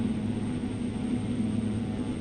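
Steady turboprop engine drone of a Pilatus PC-12/47 in X-Plane 12, a continuous low rumble with a faint tonal hum, constant and unchanging throughout.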